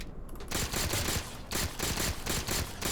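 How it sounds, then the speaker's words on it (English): A plasma pistol firing in Halo 4 makes loud, rapid energy-weapon shots in close succession. They come in a quick, steady series of bursts and play alone with no talking. "Here's what the plasma pistol sounds like."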